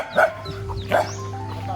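Dogs barking on a farm with mahogany, coconut and mango trees in Agdangan, Quezon: two sharp nearby barks about a second apart, with whimpering yips and a steady background hum.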